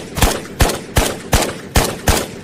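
SVD rifle fire in the VR game Ghosts of Tabor: six sharp, evenly spaced shots about every 0.4 seconds, loud and close, each with a short decaying tail.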